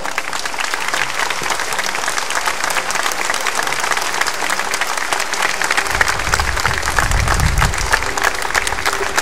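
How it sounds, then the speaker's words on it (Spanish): Sustained, loud audience applause at a 2014 pastorela honouring Juventino Pineda, a dense, continuous crowd clapping close and full for about nine seconds, with a low rumble joining partway through. "Les pido a todos un aplauso nutrido para el señor Juventino Pineda"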